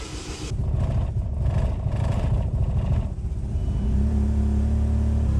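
A Chevrolet Malibu engine with a newly fitted MAP sensor cranks, then catches and settles into a rough, loud idle up close, with no talking.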